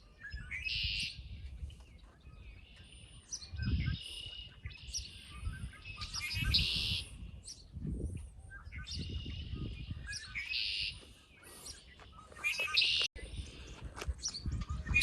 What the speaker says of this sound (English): I hear these birds.